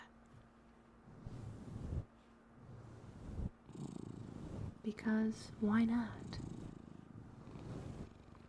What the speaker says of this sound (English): And of course you immediately start petting the cat.